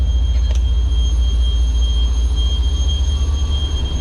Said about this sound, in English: I can hear that wonderful hum of the train in the background